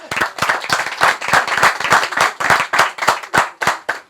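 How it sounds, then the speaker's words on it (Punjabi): An audience at a Punjabi comedy jugat show in Faisalabad claps loudly and close, with a brisk, uneven burst of individual hand claps running steadily for several seconds. "ਯਾਰ ਇਹਦੇ ਵਾਸਤੇ ਬਹੁਤ ਜ਼ਿਆਦਾ ਤਾੜੀਆਂ ਯਾਰ।"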